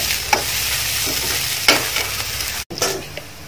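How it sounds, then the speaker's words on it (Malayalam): Curry leaves stirred into samosa masala in a hot pan, a steady close sizzle of frying with occasional stirring scrapes and one brief break, no talk. "അതിലോട്ട് കുറച്ച് കറിവേപ്പിലും കൂടി ആഡ് ചെയ്യാം."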